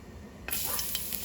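Olive oil hits a hot frying pan and quickly bursts into a bright, close hiss that holds steady for a moment.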